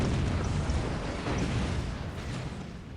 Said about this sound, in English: Booms on all sides of the maps